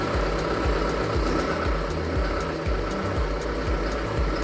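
John Deere 6420 tractor diesel engine idling just after its first start, a close, loud steady rumble with a regular low pulsing knock repeating about twice a second.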